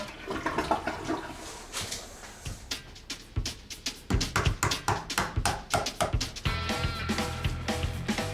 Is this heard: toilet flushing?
yes